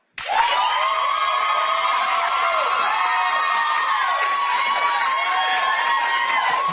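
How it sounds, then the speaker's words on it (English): A studio audience at a television talk show cheers and whoops in a loud, sustained roar of high shouts and squeals that holds steady from start to finish. "I want applause for Star."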